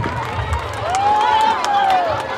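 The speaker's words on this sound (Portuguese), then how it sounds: "Eu quero uma salva de palmas, bem forte!" Crowd clapping and cheering at a Children's Day celebration in Floresta, Pernambuco, a lively continuous roar of applause and shouts with a whistle-like tone rising and falling through the middle.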